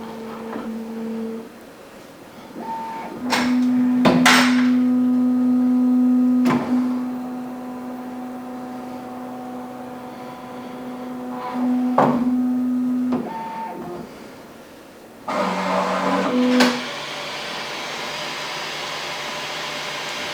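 A Bambu Lab X1 Carbon 3D printer runs its calibration routine, with steady motor tones that shift pitch in stages, a louder sustained whine through the middle, brief clicks, and a soft fan hum. No voices are heard.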